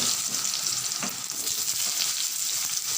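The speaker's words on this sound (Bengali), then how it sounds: "এই তেলটা গরম হয়ে গেছে এবার আমি আলুগুলো দিয়ে দেবো" Potatoes frying in hot oil produce a loud, dense, continuous hiss and crackle, close up and uninterrupted, with no one speaking.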